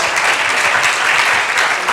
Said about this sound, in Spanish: a Javier Macho, a Jaime Rodríguez San Pedro, un aplauso para ellos, aquí está.